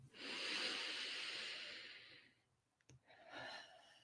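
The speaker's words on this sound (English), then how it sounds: "let's take a nice breath in" A slow, deep breath drawn in during a guided meditation, a long airy hiss swelling then fading over about two seconds, followed by a soft click and a gentler exhale, close and alone with no talk.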